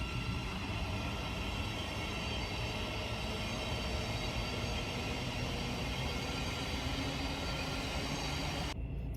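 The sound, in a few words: train passing near a station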